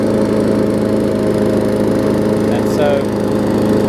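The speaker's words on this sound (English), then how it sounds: "but she runs good. Very nice little mower for somebody." A Briggs & Stratton flathead engine runs a small walk-behind lawn mower with freshly reset timing. It gives a loud, steady, close drone that stays unbroken throughout, while someone briefly speaks over it.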